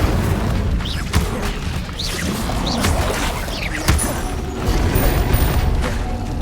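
Incendio fire spell cast in the game Hogwarts Legacy, a whooshing burst with a boom over dense game ambience and background music, fairly loud and close.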